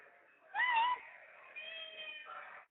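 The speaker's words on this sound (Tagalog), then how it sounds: "Narinig ko ang pusa." A cat meows close by, one drawn-out cry with rising and falling pitch, followed by a softer, longer mew, with no one speaking.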